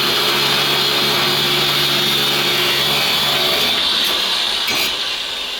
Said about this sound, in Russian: Все, отпилил я карданчик